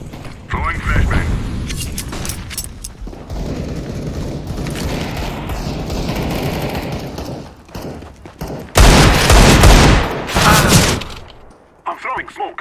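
Gunfire and grenade blasts in Counter-Strike: Global Offensive, dense bursts of shots and mechanical clatter, with a loud explosive stretch near the end and a player talking over parts of it.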